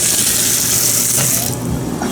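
A hotel shower runs with strong pressure, giving a steady, close, full hiss of spraying water throughout, with no talking.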